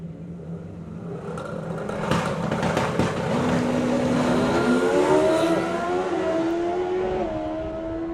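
A drag racing car launches at a national event and accelerates hard, its loud engine rising through rapidly climbing revs as it pulls away, with crowd and track noise underneath.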